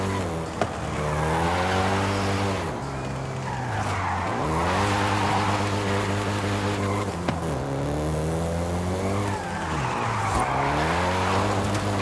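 A Volkswagen Golf GTI in Forza Horizon 5, set in Mexico, revs loudly with shifting engine pitch as its tires squeal and skid in repeated long slides, with no talk.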